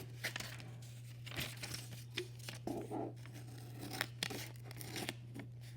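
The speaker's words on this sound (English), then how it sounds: "now I'm going to cut it into a mini square." Scissors cutting origami paper into a small square, quiet snips and paper rustles scattered over a steady low hum, faint and close.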